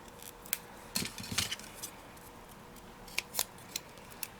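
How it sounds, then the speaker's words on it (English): Scissors trimming paper for card making: a handful of quiet, crisp snips in small irregular clusters, close by, with no talking. "Let me trim a little bit of that away."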